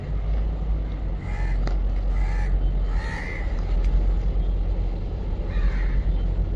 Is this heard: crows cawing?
yes